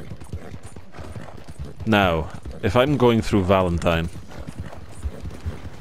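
Shire horse hooves clip-clopping at a steady walking rhythm in Red Dead Redemption 2, quiet under someone talking over the gameplay.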